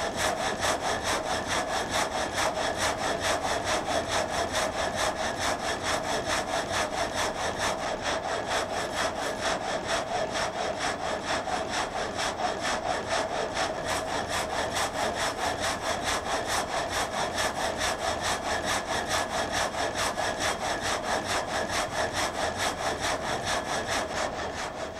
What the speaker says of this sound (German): In seiner Mühle kann Josef Schneider gleichzeitig zwei kleine Stämme oder einen Stamm mit höchstens einem Meter Durchmesser bearbeiten.